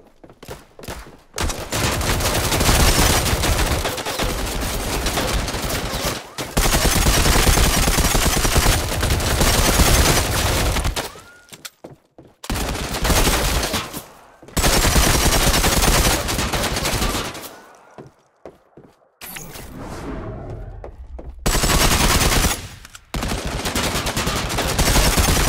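Battle royale game gunfire in Disorder: long bursts of rapid automatic fire, loud and close, broken by short pauses and a few quieter stretches, with no talking.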